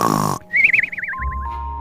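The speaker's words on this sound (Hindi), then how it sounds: "बाद में खराटे मारकर सो गया।" A cartoon snore in a Hindi comedy story, a loud rasping inhale followed by a wavering whistle on the exhale, over background music.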